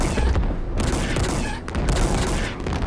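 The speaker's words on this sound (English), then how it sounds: "Just shoot those hunters so they don't shoot back." Rapid gunfire from a Halo Infinite battle against Hunters rattles in dense, loud bursts with booming impacts, broken by a short lull partway through.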